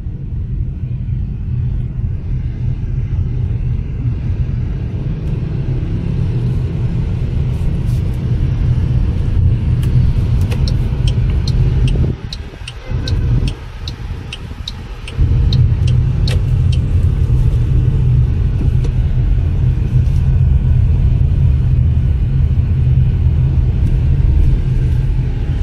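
A BAIC X55 1.5 turbo SUV from 2020 on the road gives a steady low interior rumble of engine and tyres, with a brief dip midway, and no talking.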